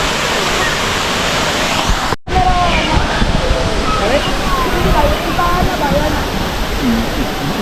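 Katibawasan Falls in Camiguin pours in a loud, steady broadband roar with no spoken words heard, briefly cut by a near-silent gap partway through before the rushing water resumes.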